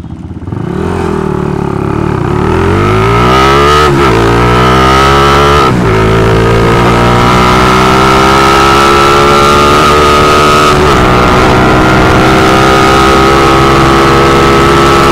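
A loud Rusi motorcycle engine revs up close, its pitch rising and falling through several throttle bursts before settling into a strong, sustained drone.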